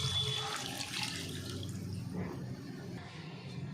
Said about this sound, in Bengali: গরম করে রাখা জলটা দিয়ে দিচ্ছি।